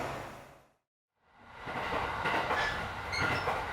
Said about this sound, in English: I will take the Mito Line train to Iwase, a quiet rural station